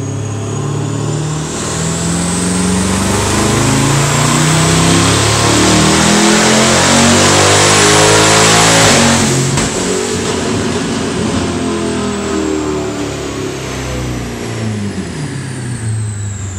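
A car engine on a dyno revs hard and loud, sweeping up through a long rising pull to a peak before easing off and winding down.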